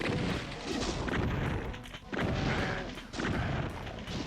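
Gunfire in the classic Doom video game on PS3, a burst of repeated heavy shots and booms in bursts with brief pauses, loud and close with no talking.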